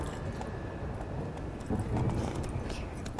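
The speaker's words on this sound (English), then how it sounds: "Come on, horsey." Horse hooves trot steadily in The Witcher 3 video game, a continuous clip-clop rhythm with a muffled game-world ambience underneath and no talk.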